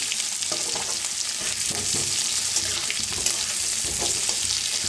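Potatoes for dum aloo fry in hot oil, producing a dense, unbroken hiss and crackle that stays loud and close throughout, with faint stirring knocks underneath.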